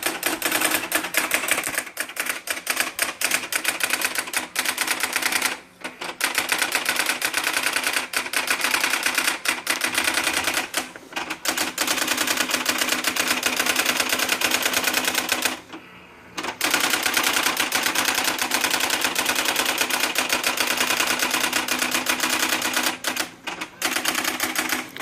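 A Brother WP-1700MDS word processor's daisy wheel printer prints, a continuous rapid clatter of character strikes running in long bursts with brief pauses between lines, close and loud.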